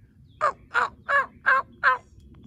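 Five evenly spaced, loud gobbling calls from a wild turkey tom near a lake ring out in a steady rhythm, clear and fairly close, with little else around them.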